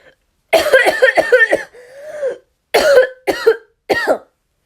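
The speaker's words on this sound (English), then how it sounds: "I had a cough" A burst of harsh, repeated coughing, several sharp coughs close to the mic in quick succession, with brief pauses between.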